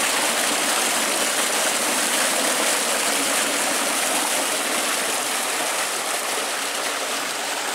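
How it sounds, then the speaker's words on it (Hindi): High-pressure water gushes steadily from a 7-inch tube well delivery pipe driven by a 20 HP three-phase motor, a loud, unbroken roaring rush close by. "ये 7 इंच की डिलीवरी है, बहुत ही ज़बरदस्त पानी है, हाई प्रेशर वाटर"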